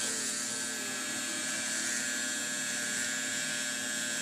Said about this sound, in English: Let the clipper do the work, in this case the trimmer.